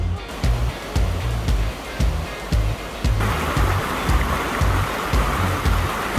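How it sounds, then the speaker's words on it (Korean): Mountain stream water rushing steadily along a forested Jirisan trail, loud and close, a continuous broadband wash with rhythmic low surges throughout. "너무너무 아주 물소리가 좋네요."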